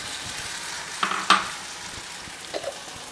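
Tomatoes dropped into a pan of frying onions and slit green chillies, a soft sizzle with a few clinks and scrapes of a spoon stirring, close and fairly quiet, no talking.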